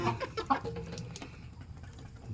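A laying hen clucks several times in quick succession nearby, then quiets, leaving soft background noise.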